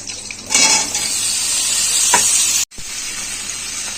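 Ridge gourd and potato hit hot oil in a pan with a loud sizzle that steadies into a continuous hissy fry, a light clatter of the utensil partway through, then a brief cut before the sizzling resumes.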